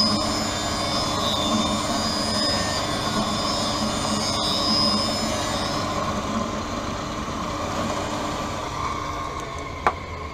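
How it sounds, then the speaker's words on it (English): Lens edging machine cutting a safety bevel into the rear surface of a Ray-Ban 2140 Wayfarer lens, a steady droning, whirring hum with tonal whine that eases slightly partway through, ending with a sharp click. "the safety bevel is being applied to the rear surface of the lens."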